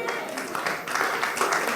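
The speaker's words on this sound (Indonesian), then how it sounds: "Tepuk tangan yang dahsyat." A church congregation at a Sunday worship service in Batam breaks into applause, a quick, even patter of many hands clapping at moderate volume.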